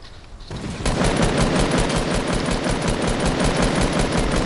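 Rapid automatic gunfire aimed at a turret in a video game rattles out in a loud, continuous stream of fast, evenly spaced shots after a brief quieter moment.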